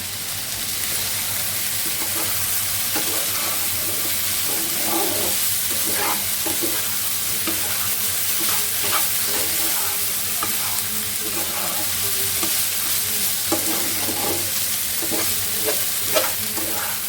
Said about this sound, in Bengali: আলু ভাজি করতেছি আলু ভাজিটা তেলে দেওয়া হয়েছে